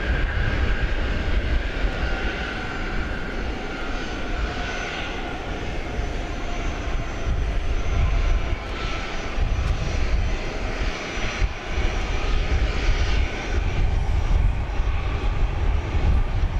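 A Boeing 757 jet at DFW Airport produces a loud, steady engine roar with a broad rushing hiss, sustained throughout as the aircraft passes close by.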